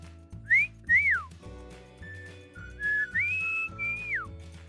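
A person whistles to call a dog: a few short rising and falling whistled notes, close and fairly loud, repeated in two bursts over a steady low background hum.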